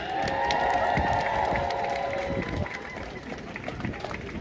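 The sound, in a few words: crowd applause at a protest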